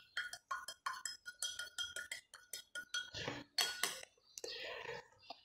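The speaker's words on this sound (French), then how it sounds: "Je prends une cuillerée d'argile que je mets dans mon verre. Si je veux, je remue." Metal spoon stirring a spoonful of clay in water inside a drinking glass, a quick series of close, bright clinks and scrapes with short pauses between strokes, alongside a soft voice.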